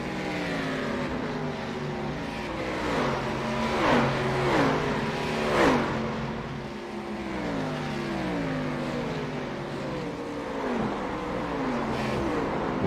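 Race cars lapping Phillip Island in a sim racing game feature race: several engines rev and shift in overlapping, rising and falling whines, with cars passing close and the pitch sweeping up through the gears.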